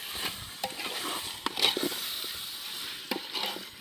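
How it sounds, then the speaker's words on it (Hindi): A spoon stirs masala in a pot during outdoor cooking in a field, giving soft scraping and sizzling strokes with a few sharper clinks, close and moderately loud, with no talk. "हाँ इसको चम्मच से घुमा रहे हो अभी।"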